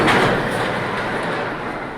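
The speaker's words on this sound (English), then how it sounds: "we're riding River King Mine Train, the aerodynamics mine train" Riding the River King Mine Train roller coaster at Six Flags St. Louis: a steady, loud rumble and rattle of the cars on the track, with a dense roaring wash of wind and wheel noise and no voices.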